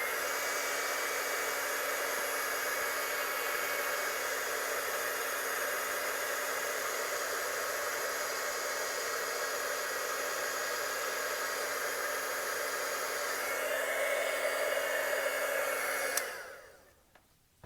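A handheld heat tool used for embossing a stamped image blows a steady, loud whooshing hiss for about sixteen seconds before switching off abruptly, leaving near silence.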